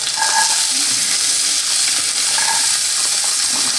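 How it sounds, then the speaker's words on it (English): Corn fries in olive oil in a pan, giving a steady, close, broadband sizzle and hiss throughout, with no one talking. "we're going to start frying up the corn."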